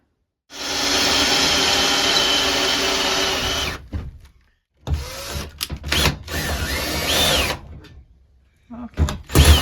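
A power drill runs loud and steady for about three seconds, stops, then fires in short bursts and stutters as it bites into material, drilling out fasteners on a van.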